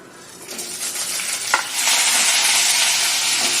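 Coconut pieces, green chilies, chana dal and urad dal fry in a pan for chutney, a steady close sizzle that swells louder after a brief clink of stirring.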